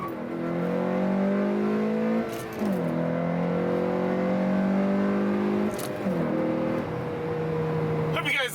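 Honda Civic Si revving hard through the gears, engine pitch climbing and dropping at each shift, with a short tire bark when it shifts into second, loud and close.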